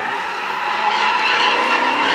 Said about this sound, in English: they've been going all day with this drifting stuff